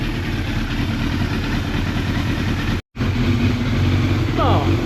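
Yamaha FZR600 Deltabox motorcycle engine idling during a workshop service with carburetor mixture adjustments, a steady close rumble that cuts out briefly midway and then resumes.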